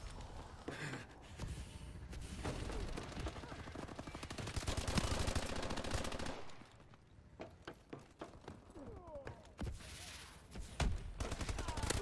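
Rapid automatic gunfire and single shots in an Advanced Warfare team deathmatch, with dense bursts that stop and start, a brief lull midway, then scattered shots returning.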